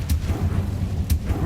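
An Incendio fire spell cast in Hogwarts Legacy, two brief bright bursts about a second apart over a low rumbling game background, with a voice talking nearby.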